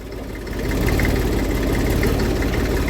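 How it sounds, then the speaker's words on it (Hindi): A diaphragm tractor engine idles close by with a steady, heavy, low throbbing chug. It runs evenly and loudly throughout, without revving. "डायफ्राम ट्रैक्टर की यही खासियत होती है कि उसे बार बार रेस नहीं देनी पड़ती, चलता है बढ़िया"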